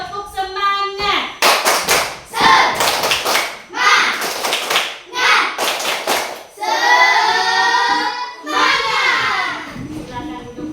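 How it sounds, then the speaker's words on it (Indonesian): A class of children standing in a classroom claps out a rhythmic spirit clap, with loud bursts of clapping in patterned groups, and shouted voices join in near the end. "Tepuk semangat."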